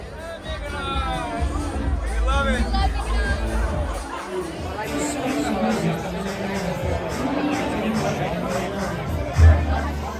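Dense crowd chatter fills the street outside a busy bar in Mykonos Town, a steady babble of many overlapping voices with occasional closer speech, sustained throughout with a brief thump near the end.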